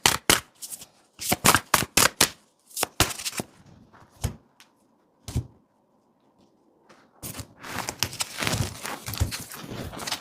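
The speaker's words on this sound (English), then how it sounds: "Let's pull a few cards." Oracle cards being shuffled and pulled from a deck, a run of sharp riffling bursts and slaps up close, then a quiet pause before a longer stretch of dense shuffling.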